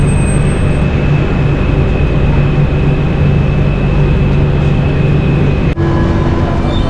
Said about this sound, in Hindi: ये रहा लॉज़ान का मेट्रो।